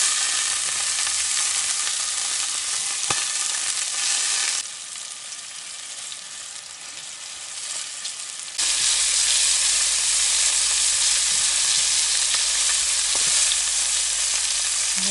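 Liver frying in a pan gives a steady loud sizzle and hiss that dips quieter for a few seconds midway, then returns as strong as before.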